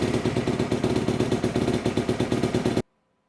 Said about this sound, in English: First step is you're gonna wanna start the engine. You're gonna wanna warm up the motorcycle to operating temperature.